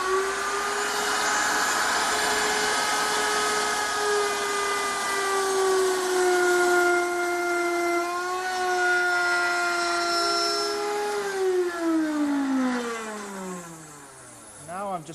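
A router plunges into real hardwood to cut a deep mortise, its high motor whine steady and loud, then dipping and rising in pitch as the bit bites and the tool is raised, running alone throughout.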